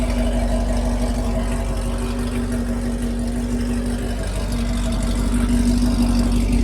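A Chevrolet Camaro SS with no catalytic converters, running an E85 tune and making about 500 horsepower at the wheels, idles steadily after a cold start, a loud, even rumble close by with no talk over it.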